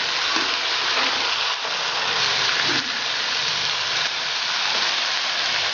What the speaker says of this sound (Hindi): इसे तेज़ फ्लेम पर फ्राई करेंगे, तब तक करेंगे फ्राई जब तक मसाला घी छोड़ ना जाए।